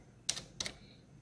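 Two quick, crisp keystrokes clack close by on a computer keyboard, spaced about a third of a second apart, over a faint steady room hiss.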